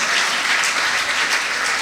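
A church congregation claps together in a dense, even burst of applause, close and sustained with no voices breaking through.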